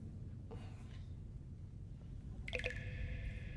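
Water dripping in a quiet cave, a few faint isolated drips over a low background rumble, with a brighter, clearer drip near the end.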